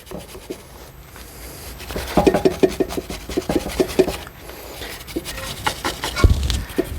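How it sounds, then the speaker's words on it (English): A brake caliper on a C7 Audi 3.0T is scrubbed inside with a brush, producing rhythmic rasping strokes that start quiet, grow louder and more regular midway, then continue in uneven bursts. "We're basically just scrubbing the inside of the actual caliper up here"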